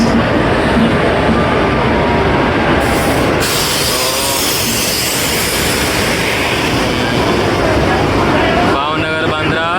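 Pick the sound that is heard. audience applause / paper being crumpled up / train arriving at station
train arriving at station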